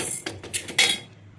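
Toor dal dry-roasting in a pan for sambar, with a few sharp clinks and scrapes of a metal utensil against the pan between quieter moments.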